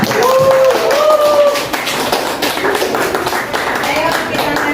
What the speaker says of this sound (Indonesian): Kasih aplaus dulu buat kelompok.